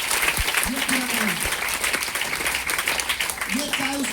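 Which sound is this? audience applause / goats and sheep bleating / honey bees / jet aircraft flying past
audience applause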